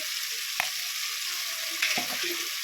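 Ginger-garlic paste fries in a pan for a mutton liver dish, a continuous close sizzle with a couple of soft stirring scrapes against the pan.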